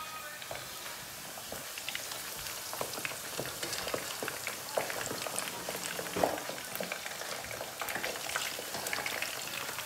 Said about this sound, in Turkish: alt üstü nar gibi kızarana kadar patateslerimizi kızartıyoruz